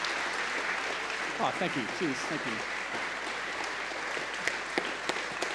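An audience at a Brisbane science evening applauds a professor after his talk on Australia's elusive birds: a sustained, fairly quiet patter of clapping throughout, with someone briefly speaking his thanks over it.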